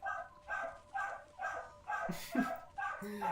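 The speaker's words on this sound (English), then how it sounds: "Anyone hear, like, some rabid dog barking in the background?" A dog barks repeatedly in the background, a regular series of faint, distant woofs about every half second, heard through a gaming microphone during an online match stream.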